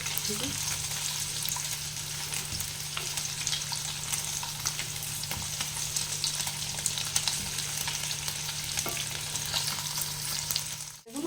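Paneer fries lightly in a pan, giving a steady close sizzle with faint crackles and occasional stirring scrapes throughout, ending with a brief clatter.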